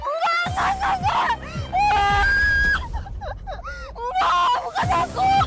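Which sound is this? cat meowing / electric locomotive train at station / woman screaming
woman screaming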